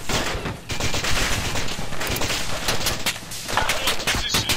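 Dense, loud gunfire from the ARMA 2 military shooter game: overlapping rifle and machine-gun bursts crackling almost without pause, with sharp individual shots standing out throughout.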